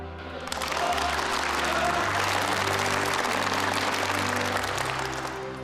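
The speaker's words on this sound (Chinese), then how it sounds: "首先，我们以热烈的掌声欢迎吕首长来参加我们的现场会。" An audience gives warm applause to welcome a chief arriving at an on-site military meeting: loud, sustained clapping from many hands that swells quickly, holds for several seconds and fades slightly at the end.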